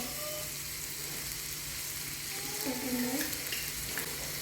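Onions and curry leaves fry in oil while being stirred for a crab curry, a steady soft sizzle with faint scraping throughout.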